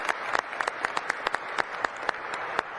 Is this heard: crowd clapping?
yes